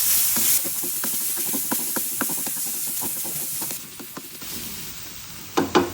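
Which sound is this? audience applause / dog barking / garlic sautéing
garlic sautéing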